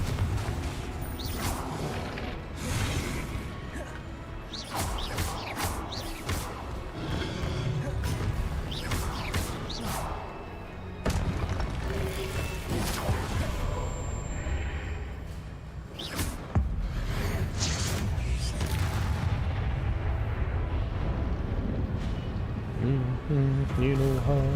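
Blasting spell explosions and magical impacts from the Hogwarts Legacy combat game burst repeatedly through steady game noise, with a person shouting spell names over them throughout.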